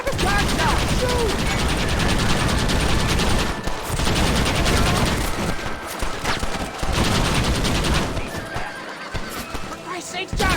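Gunfire in Red Dead Redemption, bursts of shots mixed with horses neighing and hooves clattering in a loud, dense gunfight, with shouting voices over the chaos.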